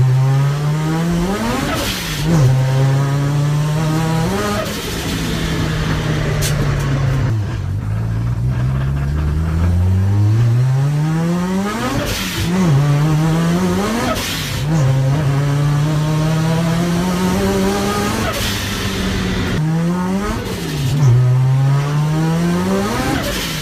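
A turbocharged Mazda 13B rotary engine revs repeatedly, rising to a loud buzzing scream and dropping back in a roughly regular cycle of pulls, close and harsh for the whole stretch with no talking.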